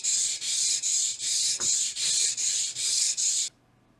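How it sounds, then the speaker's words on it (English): Sandpaper on a sanding beam rasps back and forth across a guitar nut in about nine even strokes, each a short rough scrape, close up, then stops. "A couple of passes or so on the sanding beam,"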